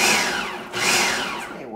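A food processor whirs loudly as it shreds potatoes and onions for latkes, a close motor roar that dips briefly and then surges again, with no talking.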